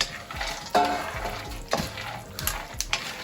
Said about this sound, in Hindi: अब आप देख सकते हैं सिस्टर फ्राई कर रही है नट्स को।